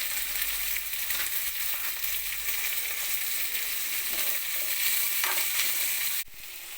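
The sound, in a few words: onions frying in a pan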